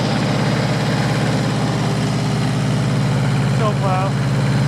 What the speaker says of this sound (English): Can't start the tractor with the PTO engaged.